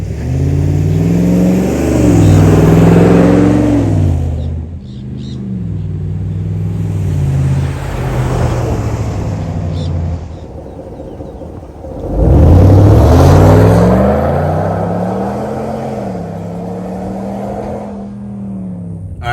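A 2023 Ram 1500 Bighorn with a 5.7 Hemi V8 and Flowmaster Super 10 muffler passes by twice, loud deep exhaust rumble rising with each rev and fading between flybys.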